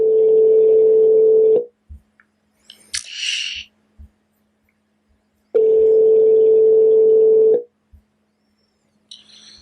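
A phone line gives two long, steady ringing tones separated by several seconds of near silence, with faint clicks and a brief rustle in between.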